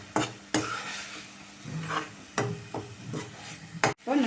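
Onions sauté in oil in a pan for chutney while a spoon stirs them, producing a low sizzle under several sharp scraping and clinking strokes, close and moderately loud.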